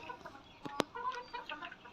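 Desi hens kept on a house rooftop give faint, scattered clucks, with one sharper close call amid quiet background noise.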